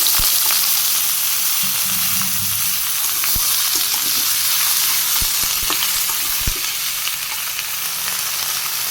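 Vegetables for a Bangladeshi chorchori sizzle steadily in a pan with green chilies, a continuous frying hiss broken by a few sharp pops and stirring clinks, close and alone with no talk.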